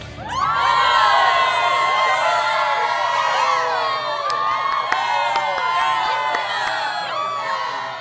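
A concert crowd cheers, whoops and applauds as a band finishes a song, a dense continuous roar of voices with scattered claps and shouts, loud and close throughout.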